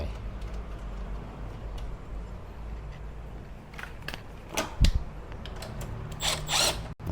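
A power tool tightens the wheel nut on an 8-inch electric scooter fitted with a 200x50 solid tyre, giving a few short whirring bursts near the end over steady mechanical background noise and small metallic clicks.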